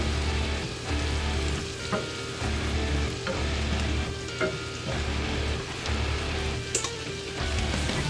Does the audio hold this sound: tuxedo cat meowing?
no